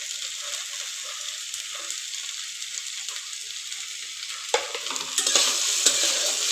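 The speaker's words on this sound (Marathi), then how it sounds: "मीठ टाकून झाल्यानंतर अजून थोडं मस्त एकत्रित करून घ्यायचं आहे" A dry methi (fenugreek leaf) bhaji is stirred with salt in a pan. It gives a soft, continuous sizzle and scraping, and the stirring grows louder and brighter near the end.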